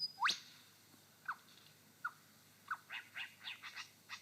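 A lyrebird imitates a whip-bird in a Victorian forest: one sharp rising whip-crack note opens, followed by a run of shorter chirps and clicks, moderately close and fairly faint over a quiet background hiss.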